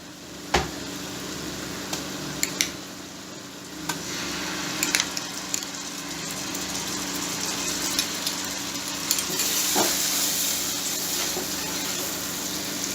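Spices and fried onion paste sizzle in a pan for a beef kofta curry, a steady close frying hiss with intermittent sharp clinks and scrapes of stirring, no talking.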